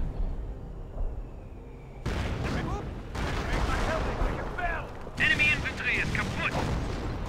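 Artillery barrage in the World War II strategy game Company of Heroes, a run of heavy booms and bursts of gunfire, loud and close, with someone talking over the din.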